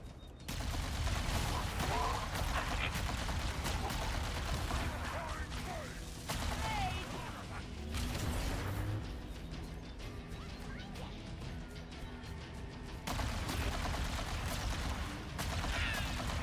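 Video game gunfire crackles in dense bursts, mixing rapid shots and crashing impacts, loud and continuous across the stretch, with brief lulls and a voice talking faintly underneath.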